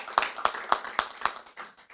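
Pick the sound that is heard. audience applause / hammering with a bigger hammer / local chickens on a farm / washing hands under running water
audience applause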